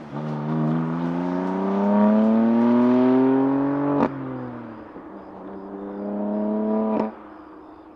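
Stock exhaust on a BMW M2 Competition with the S55 engine revs up in a rising drone, drops off sharply, then swells and cuts again, loud and close with no talk.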